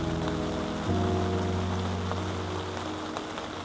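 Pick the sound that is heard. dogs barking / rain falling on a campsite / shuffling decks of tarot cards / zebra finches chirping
rain falling on a campsite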